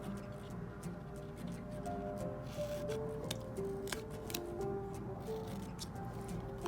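Scissors snip the corners off a paper treat bag in a series of quiet, close, crisp cuts, with light paper rustling and small handling noises between them.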